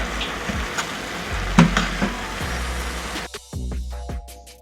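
Banana flower kootu mixture is stirred in a pan, with soft sizzling, wet scraping and repeated spoon knocks against the pan, the sizzle dropping away near the end while the stirring continues.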